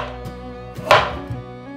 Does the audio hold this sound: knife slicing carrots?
yes